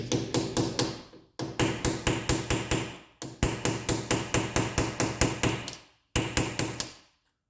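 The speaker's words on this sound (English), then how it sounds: "I'm gonna kind of get this chisel in here where the gasket is" A chisel is hammered into the engine gasket of a 1970 Porsche 911, with loud, rapid bursts of metallic strikes broken by short pauses and no talk.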